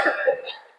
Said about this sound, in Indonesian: anak bapak yang ganteng kayaknya batuk-batuk nih hari ini